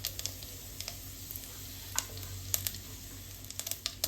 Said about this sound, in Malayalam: വെളിച്ചെണ്ണ ചൂടായിട്ട് ജീരകം ഇടാം കടുകിടാം വറ്റൽമുളക് ഇടാം